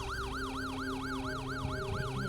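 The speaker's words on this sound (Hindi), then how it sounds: "फिर रात को 3 बजे ये एम्बुलेंस यहाँ क्या कर रही है?" An ambulance siren wails in a steady, rising-and-falling cycle in front of a house at 3 a.m., loud and close, with a low vehicle rumble underneath and no talk.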